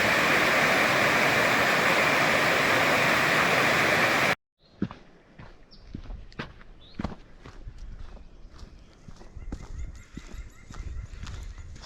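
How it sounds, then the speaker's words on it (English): A waterfall on the Ravens Cliff Falls trail roars loud and dense for about four seconds, then cuts off abruptly. Scattered clopping footsteps and faint ambient sound follow. "More beautiful waterfalls today."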